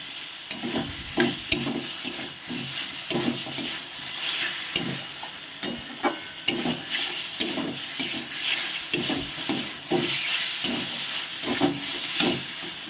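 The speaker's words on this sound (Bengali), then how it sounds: "এবার আমি এর মধ্যে ভেজে রাখা আলুটা দিয়ে দেবো।" Fried potatoes tumble into a cooked spice masala in a kadai for egg and potato dalna, giving a continuous loud sizzle and hiss with repeated stirring scrapes at an uneven rhythm.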